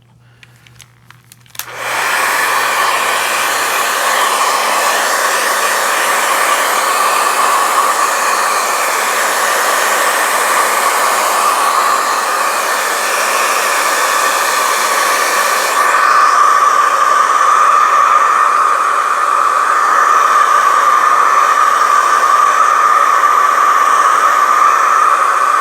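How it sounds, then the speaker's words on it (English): A hair dryer, used to dry a watercolor painting, switches on and then runs loud and close without a break, a harsh steady whooshing roar that shifts slightly in tone partway through. "So I'm going to use this obnoxious sounding hair dryer for just a minute and dry this out."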